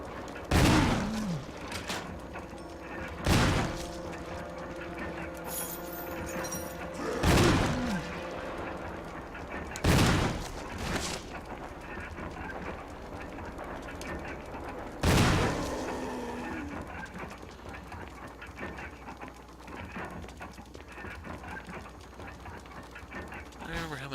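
Shotgun blasts in Resident Evil HD bringing down a Crimson Head, five heavy booming shots spaced a few seconds apart, each followed by a brief echo over quieter game ambience.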